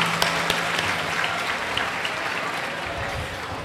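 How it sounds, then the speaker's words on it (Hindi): Congregation clapping to welcome a bishop at an outdoor Holy Mass during an annual national pilgrimage, a broad steady wash of applause from a large crowd, sustained and fairly loud throughout. "तो हम अपनी पुरजोर तालियों में अपने दरमियान बिशप सैमसन शुक्रुद्दीन को खुशामदीद कहते हैं।"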